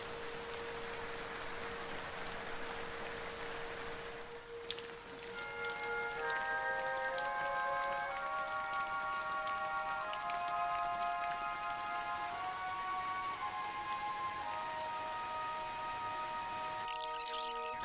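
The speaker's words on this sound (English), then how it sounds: "the rains come in full force and shower the meadow with nourishment once" Heavy rain pours down steadily over a meadow in the Avon Gorge, a dense, continuous hiss that lasts throughout, with a few brief bright tones showing through partway along.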